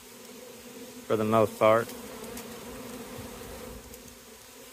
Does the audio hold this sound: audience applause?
no